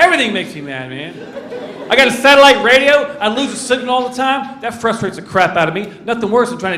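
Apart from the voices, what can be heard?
No distinct noise like a dog, phone or traffic.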